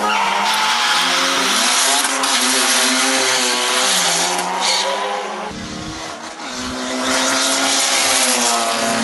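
A front-wheel-drive Honda Integra and a Series 6 Mazda RX-7 rotary drag race, with loud sustained engine roar and a strained, tire-like high whine that dips briefly midway and then builds again.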